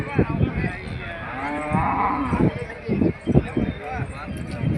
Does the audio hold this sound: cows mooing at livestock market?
yes